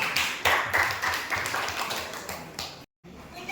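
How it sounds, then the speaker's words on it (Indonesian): Several children clapping briefly and unevenly at close range, a short burst of scattered claps that stops abruptly. "Ayo beri tepuk tangan untuk Zaki."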